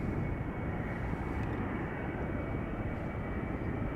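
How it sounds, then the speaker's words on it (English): KLM Embraer 190 airliner departing Schiphol Airport, a steady loud engine roar and broad rushing noise that holds evenly throughout with no other sounds standing out. "next in line to depart, KLM flight 1333, Embraer 190 going to Aalborg."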